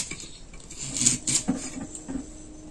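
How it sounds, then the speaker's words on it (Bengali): Knife cutting carrots on a board in a home kitchen, a run of soft, irregular chops and taps with faint clinks, close and fairly quiet. "বাকি গাজরগুলো আমি এভাবেই কেটে নেব।"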